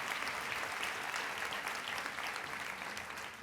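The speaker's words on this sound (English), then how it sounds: "Give them a round of applause" Steady audience applause fills the whole stretch, a dense wash of many hands clapping at a community civic address, even in level and tapering slightly at the end.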